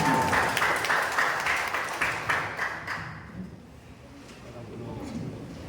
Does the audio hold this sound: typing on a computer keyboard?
no